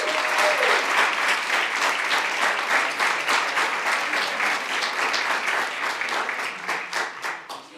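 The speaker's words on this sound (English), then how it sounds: "please give a big round of applause to our Student Congress state finalist from Ysleta High School" An audience at a school district board of trustees meeting gives a student finalist sustained, full applause lasting nearly eight seconds. The clapping is dense and even throughout and tapers slightly at the close.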